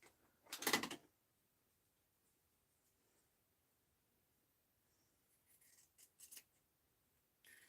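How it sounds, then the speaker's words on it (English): Fabric scissors are picked up beside a sewing machine, with a sharp clattering handling sound at first, then quiet, then a few lighter clicks and taps near the end, close and with no talking. "let me get a different scissors."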